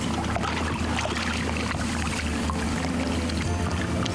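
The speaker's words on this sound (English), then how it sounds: "Just going to get the motor to assist us in this." A boat motor on Klaserie Dam lake runs as a continuous, fairly loud, steady drone with water wash, unbroken throughout and with no talk.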